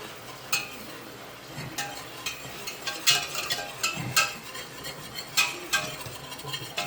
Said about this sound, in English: I'm going to add my flour to my butter. And start whisking that and lower the temperature.